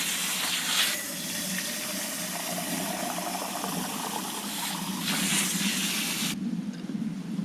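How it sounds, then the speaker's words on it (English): Steady rushing water pours from a garden hose into a spray bottle for several seconds, loud and close, then cuts off abruptly near the end. "Now fill it the rest of the way up with water. I'm a little bit shy. Let me turn on the hose."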